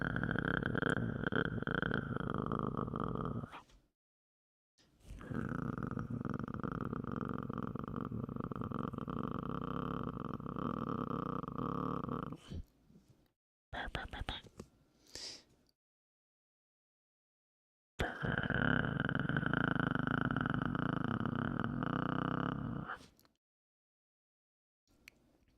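A voice imitates a cat's purr in a close, low, rumbling drone, presented as a dog badly purring. It comes as long sustained stretches broken by silences and a few short bursts.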